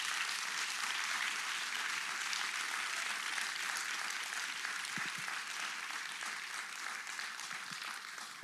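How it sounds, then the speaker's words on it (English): An audience at the Circles Cobb 2026 graduation ceremony applauds the graduates: a sustained, broad roar of many hands clapping that slowly tapers slightly toward the end, with no voices standing out. "can we please give the graduates a round of applause?"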